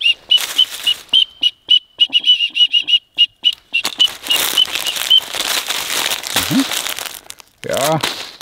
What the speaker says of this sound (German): Die Pfeife, die wunderbare Pfeife.